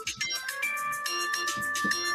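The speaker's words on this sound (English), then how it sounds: "Nice ringtone." A phone ringtone plays a bright repeating electronic melody with pulsing tones, steady and moderately loud, with a faint bit of background noise.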